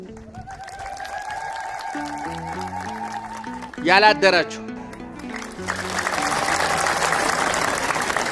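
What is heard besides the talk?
church congregation clapping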